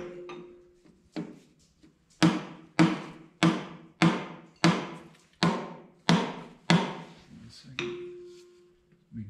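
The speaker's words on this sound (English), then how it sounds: "lightly taps on it with the hammer" A hammer taps metal about ten times in a steady rhythm, each strike sharp with a short ringing decay, close by, on a part during reassembly of a 1969 Minneapolis Moline U302 tractor engine.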